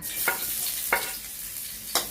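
A steady crackling sizzle of hot oil in a pan, with a few sharp clinks or stirs punctuating the hiss.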